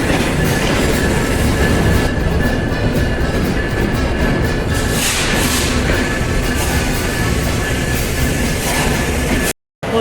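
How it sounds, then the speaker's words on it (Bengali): A train at Kamalapur railway station in Dhaka roars loud and close with continuous rumbling and rattling wheels, faint metallic squeals above it, then a sudden brief dropout near the end. "চলে আসলাম কমলাপুর রেলওয়ে স্টেশনে"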